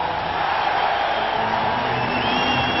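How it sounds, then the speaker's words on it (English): Football stadium crowd cheering at a 1995 Eagles versus Arizona game, a broad, steady roar of many voices that stays loud and even throughout, with no single voice standing out. "now the crowd is back into the game"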